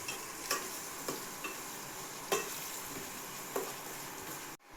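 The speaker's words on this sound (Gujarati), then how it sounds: "આ નાખી દીધી આપણે પ્યાજ. હવે આને છે ને ભાઈ બ્રાઉન થવા દેવાની છે." Onions fry in a pan while being browned, with a steady broadband sizzle and a few soft stirring knocks near the mic, ending in an abrupt clunk.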